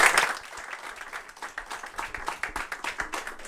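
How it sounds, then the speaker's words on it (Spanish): A seminar audience claps for the expositors at the close of a Spanish-language legal session on conservatory law, a brief sharp burst at first, then scattered, moderately loud individual claps continuing at an uneven rhythm. "Les pido un aplauso para ellos."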